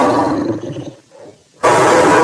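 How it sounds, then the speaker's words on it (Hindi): A lion's roar in a Hindi Panchatantra cartoon story: a loud, close, growling roar that fades into a brief lull, then bursts back at full strength. "इतने में सचमुच किसी शेर की दहाड़ सुनाई पड़ी"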